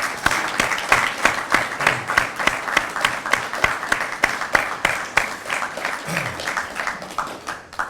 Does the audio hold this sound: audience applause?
yes